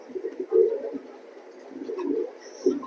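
Active racing pigeons at a loft coo in soft, low, throaty bursts, a few rounded phrases rising over a steady background murmur, fairly close and moderate in volume.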